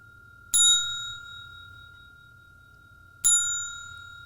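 A bicycle-style bell dings twice, clear and close, about three seconds apart, each strike ringing out and fading over a faint low background hum with no voices.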